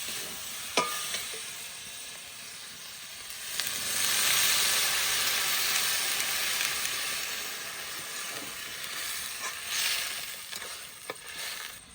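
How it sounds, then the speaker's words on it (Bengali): Loud, steady sizzle as water is poured onto taro stolons (kochu loti) already fried in a pan with turmeric, the hiss swelling sharply in the middle and easing off, with a few clinks of utensils. "কচুরলতি ভালো করে ভেজে নিয়েছি, এবার একটু জল দিয়ে দেবো।"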